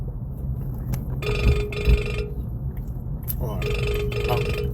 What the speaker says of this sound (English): My phone always rings when I'm trying to do this podcast.